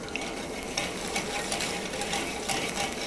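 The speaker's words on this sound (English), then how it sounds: "Just let that saute for a few seconds" Minced garlic sautes in a hot pan with a steady, close sizzle, broken by a few soft stirring scrapes.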